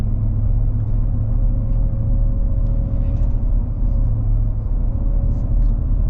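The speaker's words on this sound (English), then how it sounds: "that's the nice thing about supercharged V8s is it's just boom" A supercharged V8 in a lifted 2025 Ford F-150 Black Widow rumbles steadily from inside the cab, a loud, even low drone with a faint whine riding on top.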